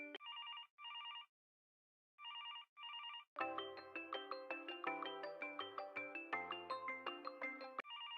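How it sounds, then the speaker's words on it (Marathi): A phone ringback tone sounds in short paired bursts with pauses, then a bright melodic ringtone plays quickly and steadily. "नुसती रिंग वाजते."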